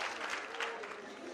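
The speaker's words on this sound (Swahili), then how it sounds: "Makofi kwake." A crowd at a Menstrual Hygiene Day celebration at Busia Polytechnic claps in a brief, fairly faint burst of applause, steady and even from start to finish.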